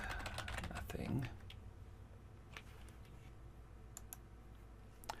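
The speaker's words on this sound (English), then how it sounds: "I was typing this" Computer keyboard typing while VBA code is entered in Microsoft Word 2016, a rapid run of small clicks at the start with sparse keystrokes afterward, faint and close under a quiet room tone.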